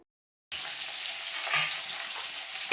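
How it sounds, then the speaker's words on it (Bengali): Pointed gourd (kakrol) pieces salted and coated with turmeric, frying in a pan and giving a steady, close sizzle that starts abruptly after a brief silence and runs on evenly, ending with a sharp clatter. "এই দেখো আমি এদিকটায় দেখো কাঁকরোল ভাজাটা বসিয়ে দিয়েছি"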